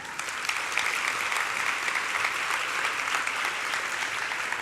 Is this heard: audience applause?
yes